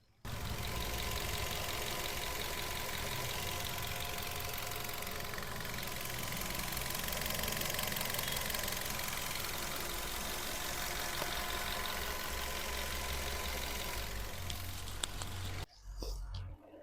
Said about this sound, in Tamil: இன்ஜினோட நாய்ஸ் நான் உங்களுக்கு மைக்கை பக்கத்தில் வச்சு எப்படி இருக்குன்றதை காட்டுறேன்